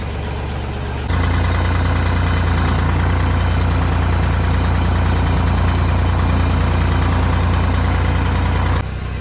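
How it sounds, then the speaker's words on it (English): A farm tractor idles close by with a steady low diesel rumble that holds constant for most of the span, beginning and ending abruptly. "I got the tractor up to the door here"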